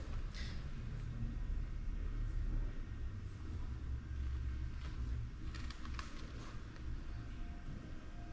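A BMW M340d's straight-six diesel engine runs with a low, steady rumble at moderate distance, faint and continuous with no voices over it.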